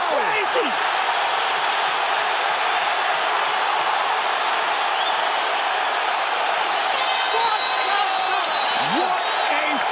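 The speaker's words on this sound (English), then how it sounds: "They are standing and cheering at Barclays Center" A large crowd at Barclays Center standing and cheering after a fight, a loud, continuous roar with whoops and scattered claps that holds steady throughout, with excited commentary on top.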